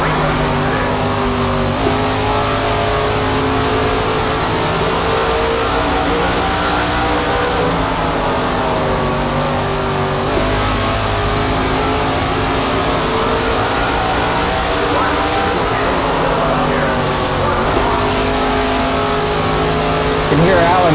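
Race car engines in the SRX racing video game, 2021 week one at Stafford, drone steadily and loudly throughout with shifting pitch, while a commentator's voice runs on top.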